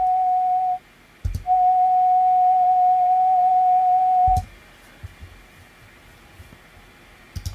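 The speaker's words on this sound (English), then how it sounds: "it's like an isolated sine wave, and this is called a tone or a frequency" A pure, steady electronic tone holds one pitch, breaks off briefly, resumes for a few seconds, then stops, leaving faint clicks and low hiss.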